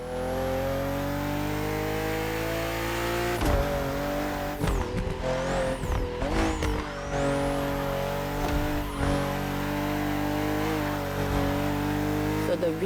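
BMW M CSL, a 50th-anniversary BMW M car, revs hard in The Crew Motorfest racing game, its engine climbing through rising gear pulls with sharp shifts and brief tire squeals, loud and close, while a voice talks over it.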